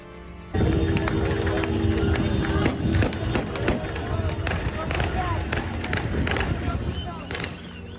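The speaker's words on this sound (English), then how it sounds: "The gunfire there in celebration as rebel supporters cheered in the streets" Celebratory gunfire crackles in Syrian streets as rebel supporters cheer, with sharp repeated bursts over a dense, loud crowd roar and voices throughout.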